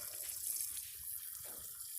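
Water bleeding out of a valve on an underground farm water line, a quiet steady hiss and trickle heard from close by.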